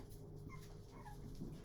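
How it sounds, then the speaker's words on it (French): Puppies eating kibble whimper and give soft yips, a faint, close, continuous murmur of small whining cries over a low steady background with no speech. "on risque d'entendre des ouin-ouin, des ouin-ouin et des sursauts d'aboiement"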